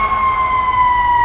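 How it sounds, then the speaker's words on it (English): A loud, steady emergency siren wails with a sustained high tone, close by in New York, no voices. "Loud sirens."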